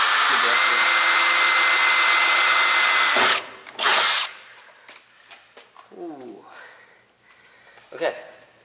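A power drill bores a hole through a Mustang's body panel during a widebody build, giving a loud, steady whine for about three seconds before stopping. A person then talks nearby.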